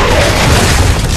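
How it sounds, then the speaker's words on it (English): A frag grenade blast in the video game Gears of War: Judgment, a loud, dense booming rumble that fills the whole moment with no break or quiet tail. "Oh, frag grenade."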